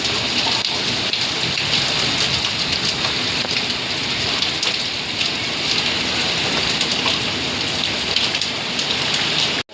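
Heavy rain pours down steadily for the whole stretch, a loud, dense, continuous hiss of drops striking surfaces close by, with no voices over it.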